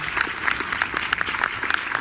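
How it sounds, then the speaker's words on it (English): Audience applause at an outdoor-style military band concert, a moderate crowd clapping steadily with sharp individual claps standing out, heard at a middle distance. "So could we give them a round of applause?"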